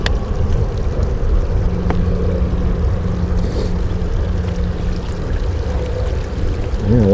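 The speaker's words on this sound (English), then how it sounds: "Running water is always a good sign." Running water in San Antonio Creek flows with a steady, broad rushing wash, close and continuous, mixed with some wind buffeting on the microphone and no voices.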